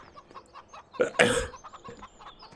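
Chickens cluck in a coop in the Farming Simulator 17 video game, with soft scattered clucks building to a louder burst of squawking in the middle before settling back to quiet clucking.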